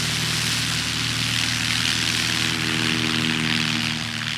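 A STOL propeller aircraft roars at full power on takeoff at the Music City STOL Competition, a loud, steady, close engine and prop drone filling the whole clip with no talk.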